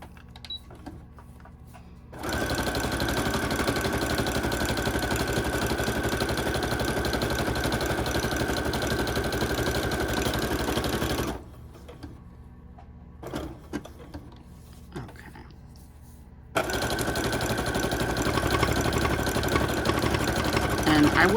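A sewing machine runs a straight stitch through fabric on a junk journal page, a loud steady mechanical whir lasting several seconds, then a pause with small handling sounds before the motor starts up again.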